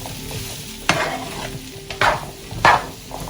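Chickpeas cooking in a pan sizzle steadily while a spoon stirs them in three distinct scraping strokes, close and clear.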